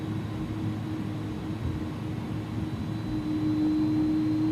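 Steady low engine hum of an Inibuilds A306F airliner taxiing in the X-Plane 11 flight simulator, a constant drone with a faint whine and a tone rising slightly near the end, no talk.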